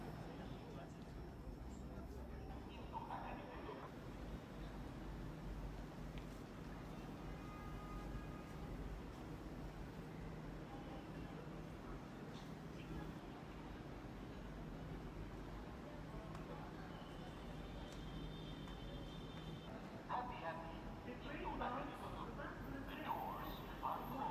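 A Jakarta MRT train closes its doors and pulls away, with a steady, loud rumble throughout, a few brief electronic chime tones partway through, and people talking under the noise.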